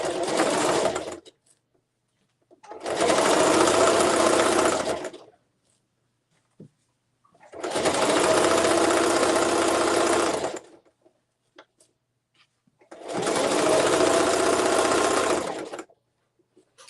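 A sewing machine stitches a zipper tote bag in three long, steady runs of rapid mechanical whirring, each a few seconds long and separated by quiet pauses, loud and close.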